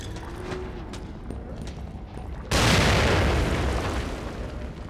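A grenade goes off in the horror video game The Evil Within, producing a sudden loud boom halfway through that turns into a sustained, rumbling blast and roar after a dim ambient stretch.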